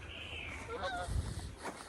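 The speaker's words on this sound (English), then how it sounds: "Hey, look, there's some geese." Geese honking near a lake by a farm, a few scattered honks at middle distance over steady outdoor background noise, with no talk.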